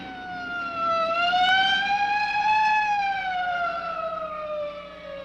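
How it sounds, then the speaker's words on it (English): A police car siren wails in a steady, rising and falling tone, loud and close, sounding alone with no voices over it. "Hey, a police car."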